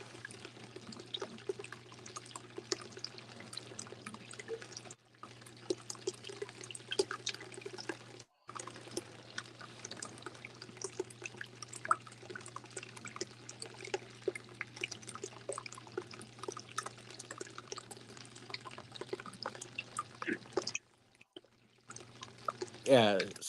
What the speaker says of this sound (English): the sound of the water running